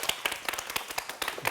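A studio audience claps to welcome a guest onto a Korean ICT talk show stage, a short burst of fairly close, uneven hand claps from a modest crowd with no talk over them.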